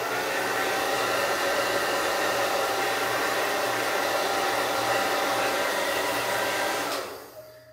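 A hair dryer blows steadily and loudly while drying a beard, a constant whooshing hum that cuts off near the end.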